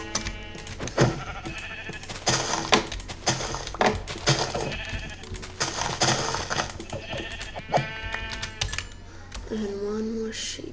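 Sheep in a video game bleat in short, repeated calls amid rapid keyboard clicking and mouse taps, with a voice talking intermittently over the game sounds.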